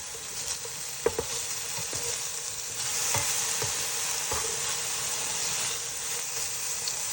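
Salted taro root cooks on a stovetop pan with a steady steamy sizzle, while a few sharp clicks and scrapes mark a brief stir partway through.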